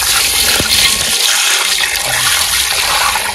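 Running water rushes continuously while a large Sundarbans river bhola fish is washed at home. The splashing and pouring is loud and close, with no voices.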